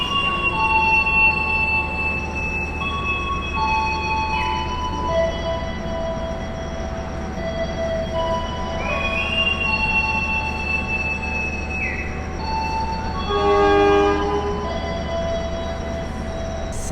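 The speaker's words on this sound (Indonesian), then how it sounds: "kereta api Progo telah berangkat dari stasiun Pasar Senen" Progo stainless steel economy train departing Pasar Senen station: a long, steady rumble of rolling cars with intermittent high wheel squeals and tonal whines, moderately loud and continuous, with no voices.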